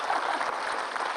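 An audience bursts into applause, a short, dense wash of clapping that holds even and steady for a moment.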